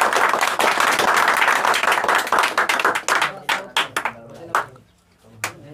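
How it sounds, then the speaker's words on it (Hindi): Dense audience applause for a top student at a 2023 award ceremony, loud and sustained for about three seconds, then thinning into scattered separate claps that fade toward silence. "इनके लिए जोरदार ताली।"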